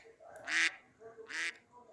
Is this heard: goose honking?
yes